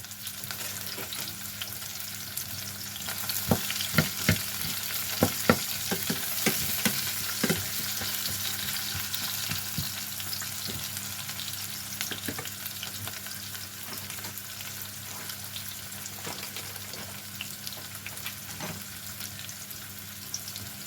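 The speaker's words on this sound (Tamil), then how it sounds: "இப்போ இந்த வெங்காயம் வடிவாக வதங்கி வர வேணும்." Onions sautéing in a pan for a mung bean milk curry, a steady soft sizzle running throughout with occasional scrapes and stirring clicks close by, no talking.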